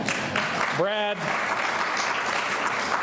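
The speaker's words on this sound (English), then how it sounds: "they deserve a round of applause again for that" A live audience applauds at an Oklahoma Route 66 centennial gathering, with steady clapping throughout and a brief voice-like tonal sound cutting in near the start.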